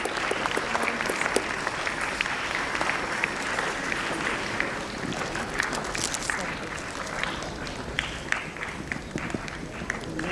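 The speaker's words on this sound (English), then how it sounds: "Please give them a big round of applause." Steady applause from a school golden jubilee festival audience, dense clapping throughout with a bit of voice mixed in, sustained for about ten seconds.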